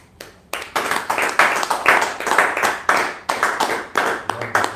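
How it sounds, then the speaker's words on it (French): A congregation bursts into applause at a worship service, a dense run of hand claps rising and falling in waves for several seconds with no voices on top. "Est-ce qu'on peut acclamer le Seigneur?"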